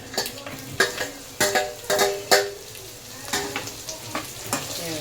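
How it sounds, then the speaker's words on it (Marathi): Dry coconut and bitter gourd pith dry-roast in a pan for stuffed bitter gourd. A spatula stirs and scrapes in repeated sharp strokes over a soft sizzle, close and fairly loud, with no voices. "सुकं खोबरं घेतल्याच्या नंतर हे जे मी कारल्यातलं जे आतला पांढरा भाग काढला होता तो पण मी याच्यामध्ये भाजायला घेतलेला आहे."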